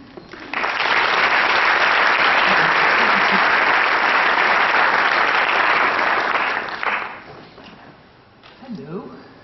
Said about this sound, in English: may I have your attention and a big applause for Mrs.